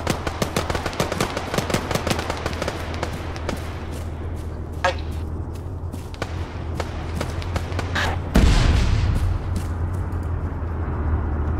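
Rapid machine gun fire aimed at a BMP armored vehicle in Arma 3 rattles continuously alongside a low vehicle rumble, with a louder heavy impact about two-thirds through.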